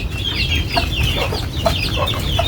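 Chickens in a backyard coop cluck steadily and close by, with short overlapping calls throughout and no talking.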